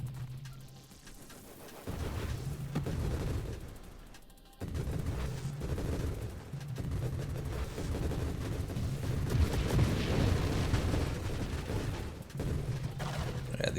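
Grenade explosions boom repeatedly in the space shooter game Nova Drift, a dense rumbling barrage of blasts with a brief drop in the middle, fairly quiet overall.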